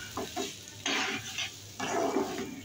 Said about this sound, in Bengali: এরপরে এলাচ দারচিনি তেজপাতা দিয়ে চালটা খুব ভালো মতো ভেজে নিব